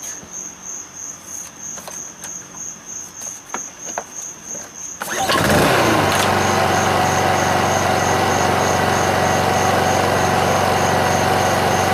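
Crickets chirp steadily, then a warm Honda EU2000i or EU2200i portable inverter generator engine starts without choke and settles into a loud, even running drone that continues to the end.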